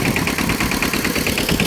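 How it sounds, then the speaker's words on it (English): A farm engine in Roxas, Isabela runs steadily but labours under load, giving a loud, continuous rough drone with a regular pulsing throb and no voices. "look like the engine have a hard time giving the power"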